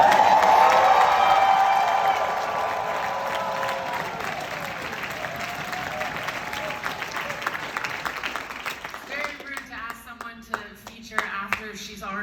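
Audience at the Youth Speaks Teen Poetry Slam in San Francisco bursts into loud applause and cheering for the poets. The applause is dense at first, then thins and fades as a voice and other sounds take over.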